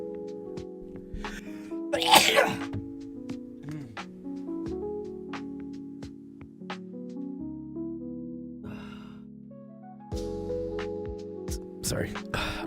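A single loud sneeze bursts out amid ongoing conversation, with a few quieter speech sounds and background tones around it.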